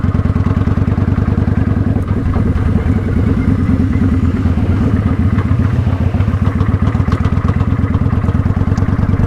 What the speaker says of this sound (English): put it in second, give it a little gas while letting off of the clutch